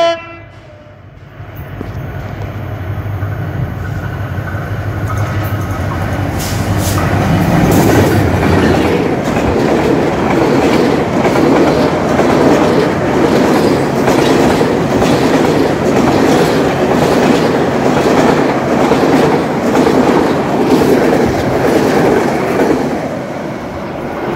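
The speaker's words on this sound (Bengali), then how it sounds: "রংপুর এক্সপ্রেস উল্লাপাড়া থ্রু যাচ্ছে" Rangpur Express train runs through Ullapara station without stopping, with steady loud rumbling and rhythmic wheel clatter on the rails and a horn sounding near the start, continuous throughout with no talk.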